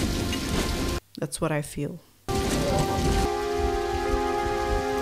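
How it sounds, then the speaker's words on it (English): Heavy rain pouring steadily in a movie scene, a dense hiss that cuts out briefly while someone speaks, then returns with a low sustained tone beneath it. "You know it's bad when it's raining."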